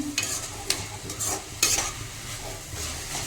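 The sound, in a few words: frying grated radish palya in a pan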